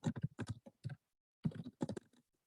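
Typing a message on a computer keyboard: two quick bursts of close keystrokes separated by a short pause.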